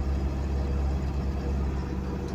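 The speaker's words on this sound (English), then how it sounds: "you can barely hear me because my truck's so loud" A loud pickup truck engine drones continuously, heavy low rumbling hum with steady roaring noise and no pauses.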